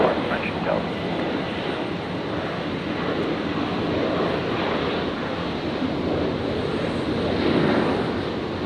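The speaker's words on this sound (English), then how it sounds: "we're looking at Qantas 541 rolling" A Qantas airliner rolls for takeoff at Brisbane airport, its jet engines a steady, broad roar heard from a distance with wind buffeting and some talk over it.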